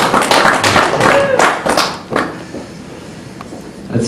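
Brief burst of applause from a comedy show audience, loud at first then quickly fading to a few scattered claps and quiet room noise.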